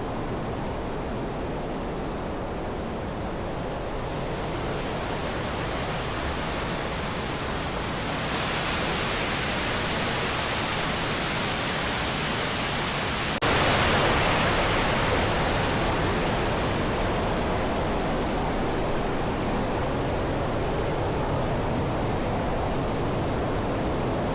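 Raven Cliff Falls in North Georgia, a steady roaring waterfall, loud and continuous broadband rush that surges a little stronger partway through, with no voices.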